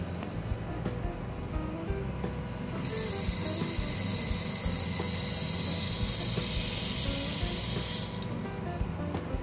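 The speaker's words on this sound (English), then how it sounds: "let's get some water" Water gushes from a tap to fill a bath, a loud steady hiss that starts after a few seconds of quieter background and cuts off near the end.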